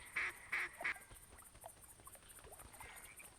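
Ducks quack in a hunting video game, theHunter Classic: three loud, clear quacks in quick succession, then fainter scattered calls over a soft outdoor ambience.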